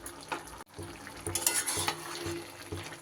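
Lentil powder is stirred into a vegetable curry in a pan over heat. A spoon scrapes and swishes steadily against the pan with a low sizzle underneath, and the strokes come in an uneven rhythm.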